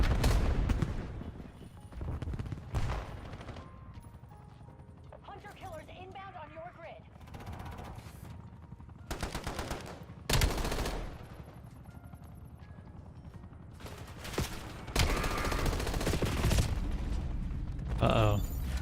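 Gunfire from a hybrid SMG/AR weapon in a shooting video game, with rapid bursts coming in several separate volleys at moderate level among game mechanism noises, and someone talking in between.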